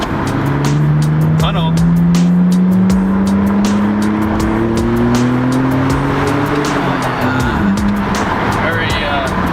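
A BMW 325i E46 with its muffler deleted revs up, the exhaust note climbing steadily in pitch through a long pull before dropping off, loud and close throughout.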